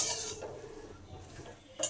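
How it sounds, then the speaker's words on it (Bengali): Red amaranth greens being stirred into a pan of mixed cooking vegetables; soft scraping and shuffling of a utensil against the pan, fairly quiet, ending on a brighter metallic clink. "এবার এই শাকটাকেও সমস্ত সবজির মধ্যে ভালো করে মিশিয়ে দিলাম।"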